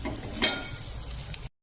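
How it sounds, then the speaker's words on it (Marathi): Soaked sago pearls are tipped into a pan and stirred, giving a brief low sizzle with a soft scrape and a small bump near the start before the sound cuts off. "याच्यामध्ये आता भिजवलेला शाबू टाकायचा"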